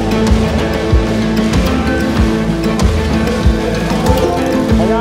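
A 5-horsepower mini bike engine running on a flat track puts out a rough, pulsing drone with rhythmic thumps, loud and close, with no voices.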